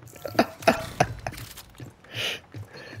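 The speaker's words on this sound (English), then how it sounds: "That's me coughing." A person coughs several times in quick, sharp bursts near the microphone, followed by a softer breathy noise, with no speech.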